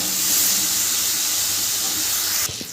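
Ginger paste and ground cumin fry in a pan for a paneer dish, giving a steady, loud sizzling hiss that runs unbroken before cutting off abruptly near the end.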